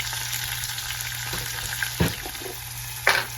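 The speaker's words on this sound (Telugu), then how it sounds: "దీంట్లో ఫస్ట్ ఈ ఉల్లిపాయ, పచ్చిమిరపకాయలు వేసేసుకుందాం. ఇది కూడా బాగా ఫ్రై అవ్వాలి." Chopped onion and green chillies fry in hot oil for a dried shrimp and brinjal curry, a steady hiss under a constant low hum, broken by two brief stirring scrapes.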